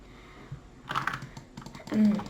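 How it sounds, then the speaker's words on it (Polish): Computer keyboard keys and a mouse click during a Bedwars gaming session: a short, close cluster of quick plastic taps and clicks, fairly quiet, with a brief faint murmur of voice underneath. "Właśnie słyszycie moją klawiaturę, tu dobrze, że słyszycie i myszkę"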